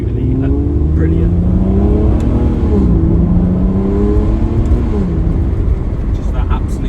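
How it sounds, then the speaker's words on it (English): A 2014 Aston Martin DB9 5.9 V12 Carbon Edition coupé with a sports exhaust drones loudly and close, its raspy V12 note swelling and dipping through several gentle revs, with someone talking over it. "Just that absolute raspiness to that sports exhaust, it really does help the V12"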